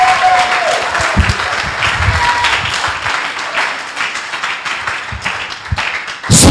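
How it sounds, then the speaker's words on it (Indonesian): An audience applauds during an Indonesian Christian church sermon: dense, sustained clapping fills the hall at steady loudness throughout, ending with a sharp burst of louder claps. "Saya berkata, tepuk tangan kalian terlalu kecil."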